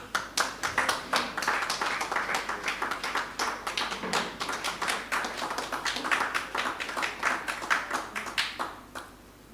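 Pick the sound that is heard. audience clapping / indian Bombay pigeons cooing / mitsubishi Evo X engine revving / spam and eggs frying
audience clapping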